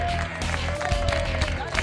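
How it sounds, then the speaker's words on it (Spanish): A tractor driving contest prize-giving at San Isidro in El Robledo de Losar draws steady clapping from the audience. A voice carries over the applause, and a faint tonal whine sits underneath. "Un fuerte aplauso."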